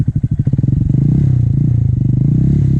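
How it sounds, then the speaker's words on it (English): A Honda Grom motorcycle revs up close as the clutch is let out, its engine first thumping in uneven bursts, then settling into a fast, steady buzzing drone. "When you let the clutch out to a certain point, the bike will start to go."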